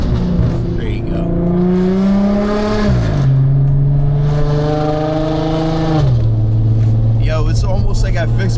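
An Audi S5 with a just-repaired oil leak revs loudly and close up, its exhaust rising and falling in several sustained pulls across the stretch, with a raspy drone and a sudden drop between revs.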